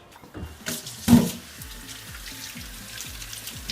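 Kitchen sink tap running as an apple is washed, a steady faint water flow with a brief louder splash near the start and soft rhythmic patters as the fruit is turned under the stream.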